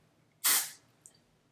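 A single short, loud hiss of makeup setting spray sprayed at a face, an intense burst lasting about a third of a second, followed by a tiny faint click; no talking.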